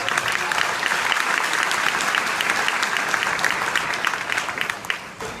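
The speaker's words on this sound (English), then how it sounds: "Let's also give a round of applause to your teachers and coaches who had a hand in your success." Sustained applause from a high school commencement audience honoring teachers and coaches, a dense steady wash of many hands clapping that holds loud and even before thinning slightly near the end.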